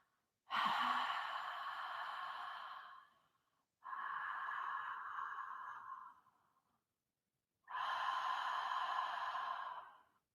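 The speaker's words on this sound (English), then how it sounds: "You constrict the back of your throat and make a slight sound as you breathe in and out." Three long Ujjayi yoga breaths drawn with mouth closed through a constricted throat, each a steady airy hiss lasting a couple of seconds with silent pauses between, close and clear with no talk.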